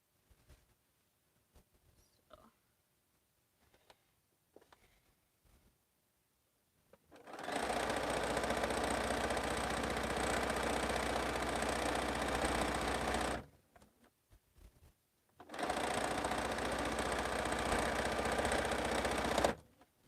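Sewing machine stitching a quilt, two long steady runs of fast, loud whirring, about six and four seconds each, separated by a short pause and preceded by quiet scattered clicks.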